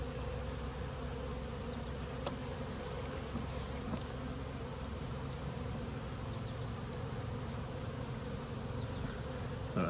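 Steady, dense buzzing of many honey bees inside a hive, continuous and close, with faint clicks and movement underneath.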